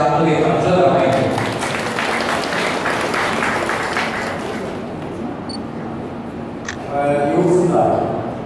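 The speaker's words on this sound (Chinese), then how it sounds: "请大家热烈掌声欢迎" An audience at a formal ceremony bursts into warm, sustained applause, a broad wash of clapping lasting several seconds, with a speaker's amplified voice heard just before and after it.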